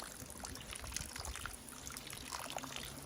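Water pouring and trickling into a Millbank filter bag as it is refilled outdoors in the woods, a steady close splashing flow lasting the whole moment with no talking.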